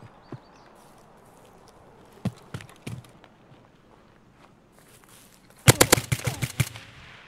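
Gunfire in the shooter game Escape from Tarkov: a few isolated distant shots early on, then a loud close burst of rapid automatic fire near the end, with no talking.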